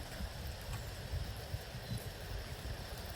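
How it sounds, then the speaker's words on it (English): Rain falls steadily outdoors during a walk, a quiet, even wash of broadband hiss with a soft low rumble, faint and continuous without distinct drops. "you might be able to hear the rain"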